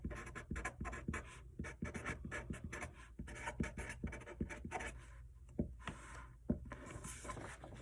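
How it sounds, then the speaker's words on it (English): Pen writing on paper for a classroom astronaut activity, a steady run of quick scratchy strokes and taps, close and fairly quiet, with no talking over it. "So we're going to go ahead and write that down."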